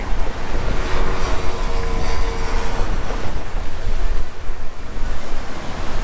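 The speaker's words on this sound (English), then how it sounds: "This wind has been crazy all day." Strong wind in Waikiki, Hawaii roars steadily as a loud, close rush of broadband noise with gusty swells and no voices.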